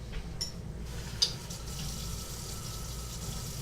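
Tap water runs into a glass in a kitchen, a steady, fairly faint hiss of flow with a couple of small clinks near the start, heard close by without any talking.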